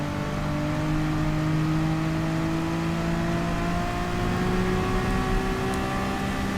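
Race car engine in Gran Turismo Sport, a Gr.3 car lapping Spa in the rain, holds a steady loud drone with rising harmonic tones as it accelerates, continuous and close with no talking.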